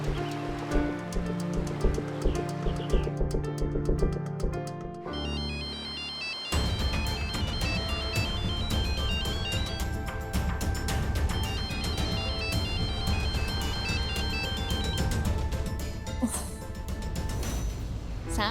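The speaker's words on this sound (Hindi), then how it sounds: "तू फोन क्यों नहीं आंसर कर रहा है?" A phone ringtone in a Hindi TV drama scene plays loudly over music, with a melodic ringing pattern that continues steadily throughout.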